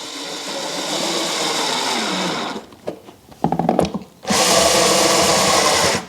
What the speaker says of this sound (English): it's best also to use a sort of electric drill that has like power settings so you don't break the threads